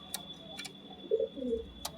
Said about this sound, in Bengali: এই হচ্ছে বন্ধুরা নর পায়রাটি